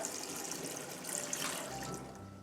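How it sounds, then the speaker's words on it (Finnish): Water pours steadily into a large pot of persimmon jam being cooked, about six decilitres added in one continuous splashing, gurgling stream, close and fairly loud. "Ja tähän lisäillään sitten 6 desiä vettä."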